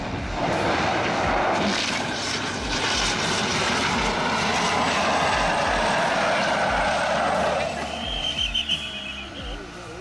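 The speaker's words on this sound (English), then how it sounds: "The plane's nose wheel broke, and a soft landing was not an option." Fixed-wing airplane landing with a broken nose wheel, a loud, steady engine roar with rumbling and scraping close by that drops away near the end into a few short thuds.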